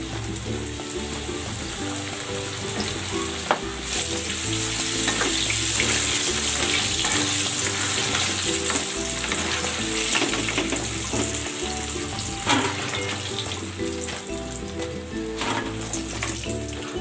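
Chicken bites deep frying in hot oil make a steady, loud sizzle with a crackling hiss that runs unbroken throughout.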